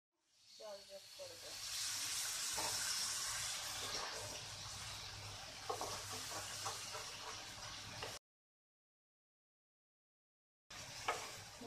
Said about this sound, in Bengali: দেখছেন কড়াই লেগে লেগে যাচ্ছে, তাই আমি হালকা জল যোগ করব।